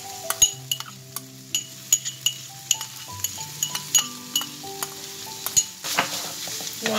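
Peas and grated carrot sizzle in a hot pan with leftover chicken, with a steady frying hiss under repeated clinks and scrapes of a utensil stirring against the pan, close and fairly loud throughout.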